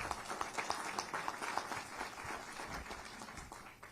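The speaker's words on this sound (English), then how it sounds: "give them a round of applause" Town hall crowd in Cincinnati applauding steadily, a dense patter of clapping throughout, moderately loud and slowly fading toward the end, with no talk over it.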